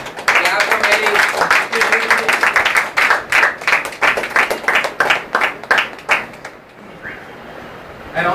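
An audience at an office certification event applauds an award winner receiving a small trophy, with dense, steady clapping for about six seconds before it thins out and fades, voices mixed in.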